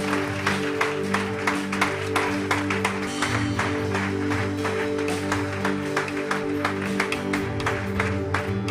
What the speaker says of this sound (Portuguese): Vamos dar uma salva de palmas a Jesus por essas vidas.